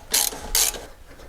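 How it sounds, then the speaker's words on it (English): A ratchet with socket loosens an 18 mm drop link bolt on a Jeep, giving two short bursts of rapid clicking up close, then quieter fading mechanical noise. "So I'm going to start off by just using the ratchet and a socket just to get this loose."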